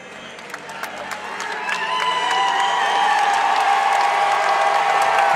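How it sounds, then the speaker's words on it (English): An arena crowd at a college wrestling dual between Virginia and NC State claps and cheers for wrestler Tariq Wilson. The applause builds from scattered clapping into a loud, sustained ovation with whoops mixed in. "you hear the crowd giving a big ovation to Tariq Wilson"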